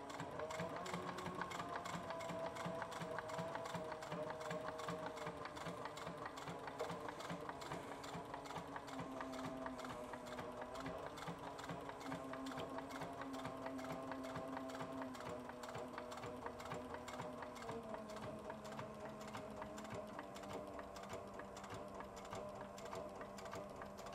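A sewing machine stitches steadily along the edge of a leather satchel, its rapid needle chatter running continuously and close at hand with slight shifts in pitch and speed throughout.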